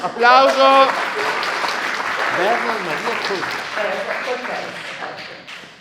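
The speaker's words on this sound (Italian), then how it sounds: "Applauso." Applause rises from a theatre audience at a World Theatre Day amateur-theatre event, brisk clapping that holds under someone speaking over it, then gradually fades.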